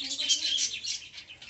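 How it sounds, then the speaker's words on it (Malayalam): Pet lovebirds chirp nearby in quick, high, twittering bursts that rise and fall over a second or two, with a faint voice-like murmur beneath. "ഞാൻ ഇന്ന് വന്നത് നമ്മുടെ ലവ് ബേഡ്സിനെ നിങ്ങൾക്കൊന്ന് പരിചയപ്പെടുത്താനാണ്."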